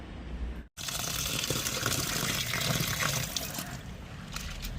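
Red flattened rice (aval) is rinsed in water, giving a steady, close sloshing and trickling wash with one brief pause near the start.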